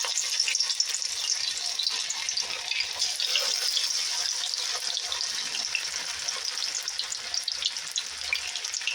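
Sabudana and spinach pakoda balls frying in hot oil, a continuous bright crackling sizzle at steady loudness, with no voices.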